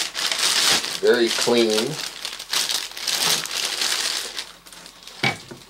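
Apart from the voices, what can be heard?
plastic bag crinkling around Makita job site radio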